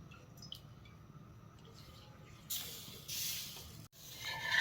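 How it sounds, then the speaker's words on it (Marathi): Water is spread by hand over a bhakri flatbread cooking on a hot griddle. After a quiet start, bursts of close, bright hissing sizzle follow, with a brief gap before the last surge. "त्यानंतर भाकरीला पाणी लावायचे."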